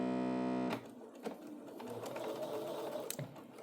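A sewing machine with a piecing foot 37D stitches at default 2.5 length, a close, steady mechanical whir following a brief tonal hum.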